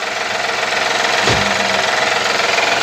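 Honda Elysion 3.0 engine with a knocking fault, picked up near the oil pan: a steady, loud mechanical drone with rapid rhythmic tapping throughout, plus one brief deeper thump midway, and no voices.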